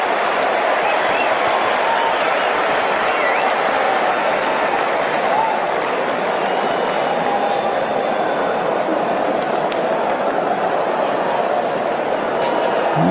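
A large cricket stadium crowd keeps up a steady, dense wash of applause and cheering that never lets up, with a voice faintly underneath.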